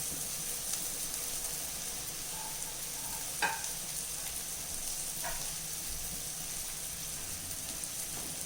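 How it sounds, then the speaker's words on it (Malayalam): Burger bun snack pieces frying in hot oil, a steady bright sizzle with a couple of brief clinks from a utensil, no talking. "ഇതിൻ്റെ ഇനി 2 വശവും നമുക്കൊന്ന് മുരിയിച്ചെടുക്കാം."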